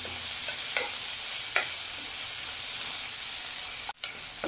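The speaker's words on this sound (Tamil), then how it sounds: "இப்போ நம்ம இதில் இடித்த சுண்டைக்காவை சேர்த்துக்கலாம்" Crushed turkey berries fry in hot ghee with a loud, close, steady sizzle, punctuated by a few spoon-stirring scrapes and a brief drop near the end.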